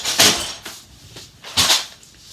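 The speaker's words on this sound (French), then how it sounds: "Le tiroir des verres." A drawer holding glasses slid open and shut, two loud rumbling scrapes with a fainter knock between, close by with no talk.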